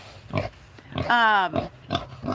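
Pigs on a farm, just woken from a nap, grunt and oink close by in several short bursts, with one longer squealing call in the middle.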